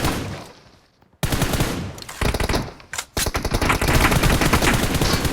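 Bursts of rapid automatic gunfire in PUBG, loud and close, starting after a brief gap and then running almost without pause in dense rattling volleys.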